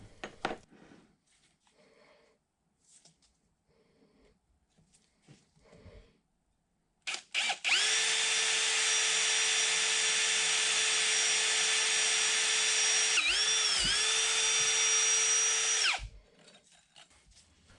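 A drill bores into the apron of a 1960 South Bend lathe, running loud and steady for about nine seconds with a brief dip in pitch near the end, after quieter handling noises.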